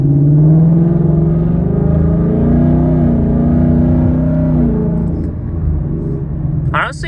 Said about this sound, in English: I'm gonna let it idle a little bit just to make sure there is no misfires or anything like that.